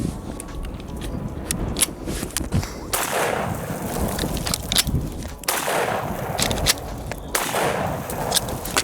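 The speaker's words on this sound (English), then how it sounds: "I'm just going to dump some ammo, see what happens" Rapid bursts of rifle fire from an AR-style gun fitted with an FRT-15 forced reset trigger, loud sharp reports in quick strings with brief pauses between bursts, close and without talk.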